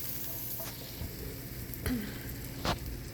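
Egg poured into a pan on low heat for a veggie omelet, giving a soft steady sizzle close by with a few light utensil clinks and scrapes.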